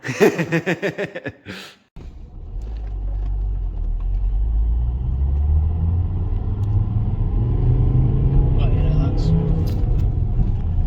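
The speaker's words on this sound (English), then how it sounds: "we're going to go test drive the car now" A car driving on a test drive after a bottom wishbone replacement, with a steady loud low rumble of engine and road noise that builds after a brief burst of speech at the start.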